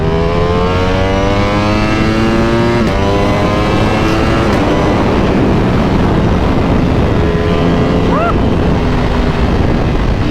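A BMW S1000RR superbike fitted with an Akrapovic exhaust roars close by, its high-revving engine sweeping up and down in pitch as it accelerates and shifts, loud and sustained throughout.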